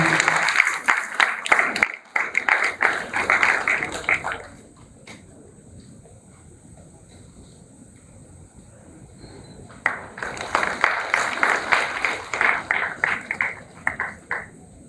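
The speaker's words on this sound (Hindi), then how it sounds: "जोरदार तालियों के साथ हम" Audience applause at a felicitation during a seminar on NRI marriage comes in two bursts of brisk clapping, separated by a quiet stretch of low room noise and a faint tone.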